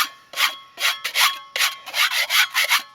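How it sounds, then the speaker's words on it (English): Stuck residue being scraped off the bottom of a plate, heard as about ten short, rough rasping strokes in a quick uneven rhythm, close and fairly loud with brief gaps between them. "Now sometimes it'll stick to the bottom of it like that. So what you want to do is scrape that off."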